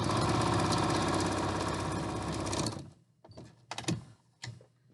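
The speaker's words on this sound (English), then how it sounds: "When you get to the end, make sure that cord stays over in that fold and just sew right off the end" A sewing machine stitches steadily off the end of a fabric tube with a cord tucked in the fold. A loud, even whirring runs for under three seconds, then stops, followed by soft handling and fabric rustles.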